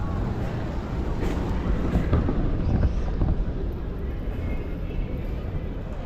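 A train passing by on a rail line in Spain, a steady broadband rumble with faint clickety-clack, heard close and continuous while people talk over it.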